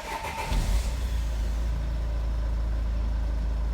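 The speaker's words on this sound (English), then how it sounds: "So I'm going to start this car" An Opel Vivaro van with boost pressure solenoid and EGR faults cranks and catches, its engine settling into a steady, loud low idle rumble up close with no talk.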